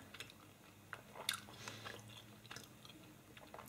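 Close, quiet chewing of Spanish candy, soft wet bites and crunchy clicks repeating irregularly with no talking.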